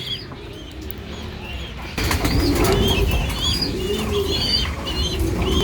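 An agitated pigeon in a cage flaps its wings and pecks hard at a hand reaching inside, with bursts of wingbeats and coos, close and fairly loud, growing busier after a sudden jump in level partway through.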